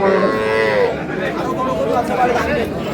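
Cattle mooing at a livestock market in Amabari, Dinajpur, where dairy cows and calves are traded, with a drawn-out moo rising over a steady crowd murmur and market chatter.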